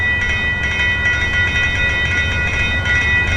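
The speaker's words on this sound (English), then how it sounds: "First train coming up into the Fannin South station." Metro rail train pulling into Fannin South station in the Trainz: A New Era simulator, a steady loud rumble of wheels and motors with sustained tonal hum, continuous throughout with no talking.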